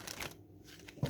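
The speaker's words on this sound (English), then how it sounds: "One more shuffle." Tarot cards being shuffled, a quick papery riffle and slap of the deck at close range, ending in one soft tap.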